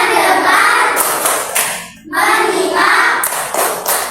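Children in a classroom doing a rhythmic clapping chant, loud close claps in short bursts with a pause midway, their voices chanting along.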